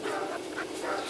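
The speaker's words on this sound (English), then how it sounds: "We got Macy, the big red golden retriever" A golden retriever at a dog daycare play day whimpers and whines in short, high, repeated cries, fairly close and moderately loud, with no talking.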